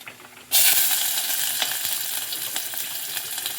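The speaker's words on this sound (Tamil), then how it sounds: "எண்ணெய் காய்ஞ்சிட்டு கடுகு சேர்த்துக்கலாம் கடுகு சேர்த்துட்டு வெங்காயம் சேர்த்துக்கலாம்" A loud sudden sizzle as mustard seeds and small onions hit hot oil, then a continuous crackling fry with occasional pops and spatters, close by.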